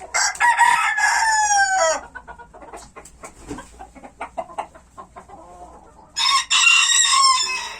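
Chickens and a rooster in a backyard coop, with loud crowing bursts at the start and end and busy clucking in between, close and clear with no voices.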